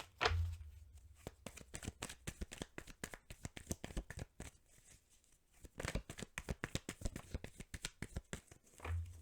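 Tarot cards being shuffled by hand at close range, a long run of rapid riffling flutters broken by a brief pause midway, with no voices.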